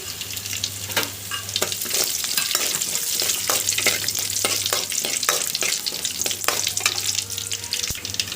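Mustard and cumin seeds spluttering in well-heated oil, a steady loud sizzle with many sharp crackling pops scattered through it, close up and without talking.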